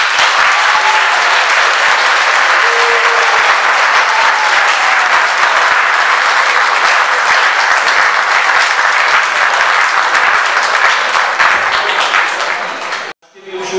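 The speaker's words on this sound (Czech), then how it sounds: "určitě si zaslouží ještě jednou velký potlesk" Loud, dense applause from the audience at a school academy performance by ninth-grade pupils, steady clapping filling the room for over twelve seconds before cutting off abruptly.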